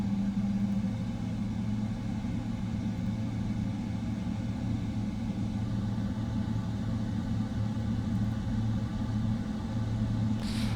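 Twin GE90 jet engines of a PMDG Boeing 777-300ER in Microsoft Flight Simulator 2024, idling after start on the ground: a steady, loud low rumble and hum that holds without change throughout, with no speech.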